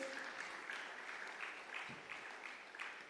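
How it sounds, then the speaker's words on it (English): Audience applause for donors at a community event, steady continuous clapping heard from a distance, quite faint. "So let's clap for all of them."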